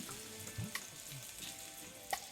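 Onions fry lightly in a pan with a faint, steady sizzle and a couple of small clicks from stirring.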